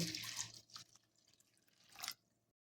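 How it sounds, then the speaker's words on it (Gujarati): Thick flattened rice (poha) is rinsed in water in a bowl, making quiet, close swishing and dripping splashes in two short bursts. "તો હવે આપણે પૌવાને ધોઈ લઈશું"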